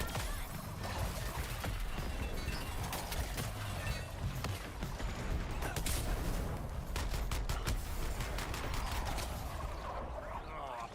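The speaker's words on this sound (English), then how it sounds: "And he just turned his big gun on." A big gun roars through a dense, continuous barrage of rapid gunfire and impacts in the action video game Suicide Squad: Kill the Justice League, loud and chaotic throughout with voices mixed in.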